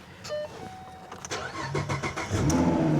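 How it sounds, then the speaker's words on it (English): A high-mileage car with an automatic transmission chimes, cranks briefly and fires up, then settles into a steady, close idle. "Fire right up, runs great."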